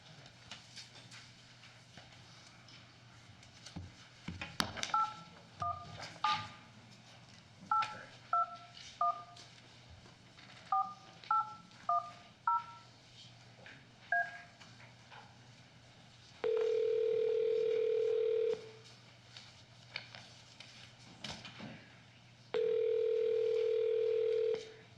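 Two bursts of touch-tone telephone dialing beeps tap out quick key presses, followed by two steady sustained dial tones, all heard faintly over a low background hum in a quiet room.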